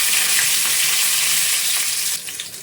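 Cumin seeds, a few pinches of asafoetida and curry leaves hit a spoonful of hot oil in a kadhai, giving a loud, steady, close sizzling hiss that softens slightly near the end, with no talking.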